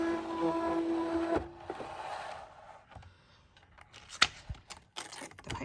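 A Cricut Expression cutting machine unloads its cutting mat with a steady mechanical whir and hum that stops about a second and a half in, followed by scattered handling clicks and taps, close and fairly quiet.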